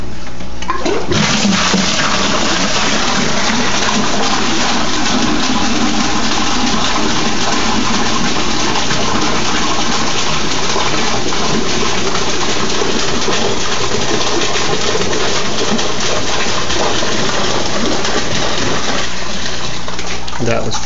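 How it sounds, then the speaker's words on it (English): A geyser air-lift pump in an aquaponic system gushes and splashes water continuously and loudly at close range, a steady rushing flow with bubbling and no pause. "how much this geyser pump is putting out"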